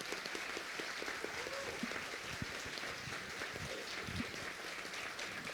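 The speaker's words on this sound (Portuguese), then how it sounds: "Por favor, todos os aplausos." Sustained audience applause at a panel event on philanthropy and racial transformation in Brazil, a dense, steady wash of many hands clapping at moderate distance with no talk over it.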